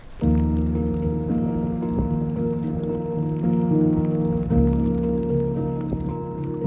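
Steady rain falls on a winter spinning-fishing trip by a reservoir shoreline, a continuous close patter with a low tonal hum running underneath.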